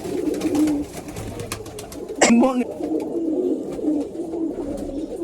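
Pigeons in a fancier's loft coo in soft, repeated low calls throughout, with someone talking nearby and a brief sharper bird call partway through.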